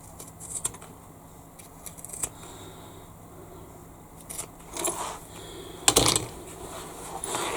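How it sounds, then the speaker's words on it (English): Scissors snipping through tape and fabric corners on a handbag sewing project, a few light close snips and metallic clicks, with a louder rustling cut near the end. "As before, cut the tape, cut the corners"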